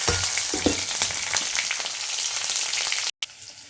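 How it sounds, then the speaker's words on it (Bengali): Spices tempered in hot oil in a wok-like kadai, with green chillies added, sizzle loudly, a dense continuous crackle and hiss close up, broken briefly by a short cut near the end. "তেলটা দেখো গরম হয়ে গেছে, এখন আমি ফোড়নটা দিয়ে দিলাম"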